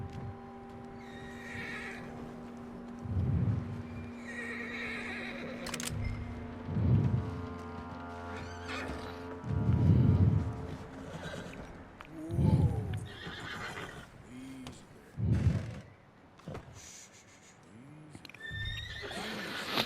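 Horses neigh and whinny repeatedly in the Red Dead Redemption 2 video game, several loud calls spaced a few seconds apart, with clip-clopping hooves and ambient game sound between them.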